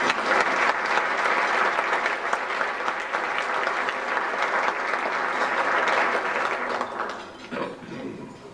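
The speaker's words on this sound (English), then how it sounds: "I'd like you to give him a round of applause." An audience applauds Chief of Staff George Jaramillo at an education-focused event: dense, steady clapping holds for about seven seconds, then thins and fades out.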